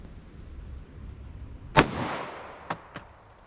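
A Glock 41 fires a single Winchester Kinetic HE .45 ACP round: one sharp, loud report with a decaying echo, followed by two fainter sharp cracks.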